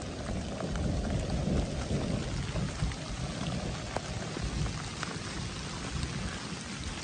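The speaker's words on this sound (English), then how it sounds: "Still raining, still wet." Steady rain pours down on a hiking trail of the Appalachian Trail, a dense, continuous hiss of drops with a low rumble of distant thunder underneath, no voices.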